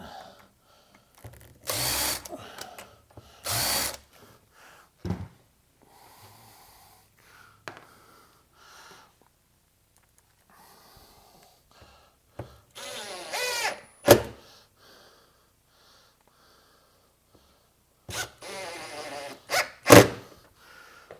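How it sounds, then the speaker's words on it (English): A power drill whirs into a sink base cabinet in several short bursts, some loud and close, separated by pauses with faint handling noises. "Now we can drill the other side."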